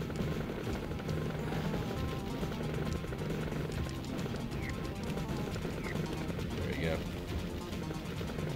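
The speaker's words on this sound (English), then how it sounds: "The helicopter was taking off." Helicopter taking off in the Nam 1975 Neo Geo video game, a steady mechanical roar under game sound effects and music, with a person talking over it.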